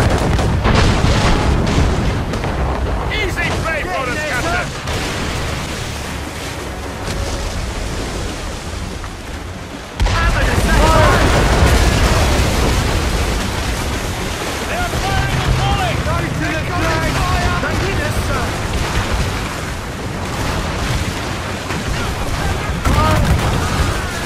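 Ship cannons boom in a naval battle in Assassin's Creed Rogue, heavy blasts and rumbling fire repeating through dense battle noise with shouting voices, growing louder after a sharp burst midway.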